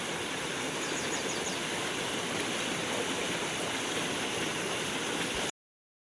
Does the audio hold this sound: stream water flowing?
yes